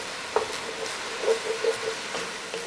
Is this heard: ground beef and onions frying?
yes